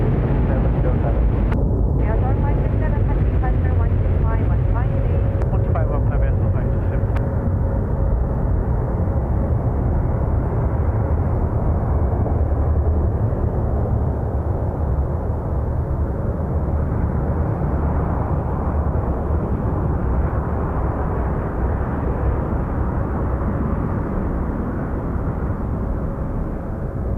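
An aircraft on approach to runway 34 left at Seoul Incheon airport gives a continuous broad engine drone that holds steady throughout, with voices talking over it.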